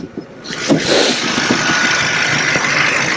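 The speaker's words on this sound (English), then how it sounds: "here is your direct injected variable valve turbocharged engine" A 2018 VW Tiguan's direct-injected turbocharged engine idles with a steady, mid-pitched hum and faint knocking, a brief revving surge near the start, heard close up.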